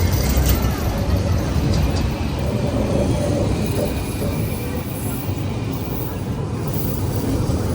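Train in Lviv, heard as a loud continuous rumble of rolling carriages with a steady broadband roar throughout.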